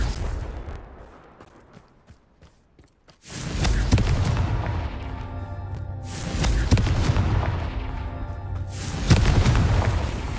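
Confringo fire-blast spell cast in Hogwarts Legacy: a sudden loud explosive burst after a quiet pause, followed by sustained rumbling booms with a second strong blast near the end.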